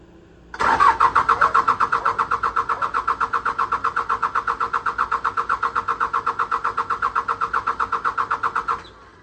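A Case 580C diesel engine cranks with a fast, even, rhythmic chug that holds at a strong, close level for about eight seconds, then stops without catching.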